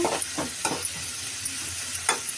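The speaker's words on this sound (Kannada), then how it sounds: "ಸೊ ನಮ್ಮಮ್ಮ ಬಂದು ಇವಾಗ ಈರುಳ್ಳಿನ ಫಸ್ಟು ಎಣ್ಣೆಗೆ ಹಾಕ್ಕೊಂಡು ಫ್ರೈ ಮಾಡ್ಕೊತವ್ರೆ" Chopped onions frying in hot oil in a home kitchen pan, a steady soft sizzle broken by the scrape of a spatula stirring every half second or so, close and fairly quiet, with no talking.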